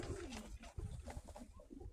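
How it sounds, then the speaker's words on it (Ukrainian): A domestic pigeon, a brown Crimean breed bird kept in a loft, coos in a low, throaty rolling call, close and fairly clear, with soft repeated pulses over two seconds. "Це теж голубок дуже літучий"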